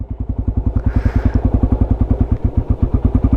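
A Yamaha Raptor 250 quad engine pulls away at low speed, its single-cylinder thump pulsing steadily and loudly close by, with a brief rise in intake rush partway through and no talking over it.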